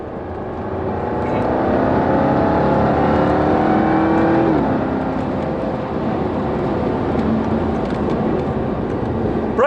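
A 600 PS Jaguar Project 8 runs on a race track, its engine droning and revving steadily at moderate distance, with a brief rising pitch shift midway and no talk.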